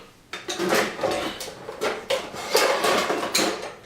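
An Instant Pot lid being handled on the pot, a run of clattering metallic clanks and scrapes that come in quick irregular bursts, fairly close and loud.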